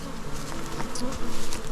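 Honey bees buzz steadily around a hive with a nuke box set on the ground, a dense insect drone that swells louder toward the end, with no talk.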